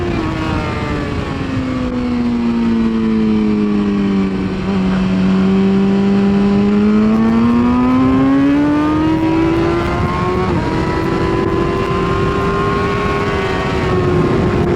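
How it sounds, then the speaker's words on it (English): A Kawasaki ZX10 superbike pushes hard on a race-track out lap, its loud, close engine tone holding a strong note that sweeps down and back up through gear changes and throttle shifts, with no voices over it. "John in the front on the ZX10. He's pushing on the outlap"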